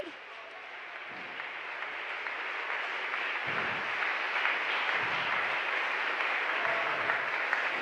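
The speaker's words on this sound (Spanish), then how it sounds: "Dale un aplauso al Señor en esta hora." Church congregation applauding the Lord during a sermon, a soft, even wash of clapping that builds slightly and continues steadily, fairly distant and without speech.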